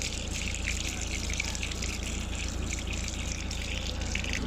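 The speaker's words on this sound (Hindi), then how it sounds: "गीज़र बहुत गर्म पानी दे रहा है" Hot water from a geyser runs steadily from a tap, a continuous loud hissing gush that stays even throughout with no talking.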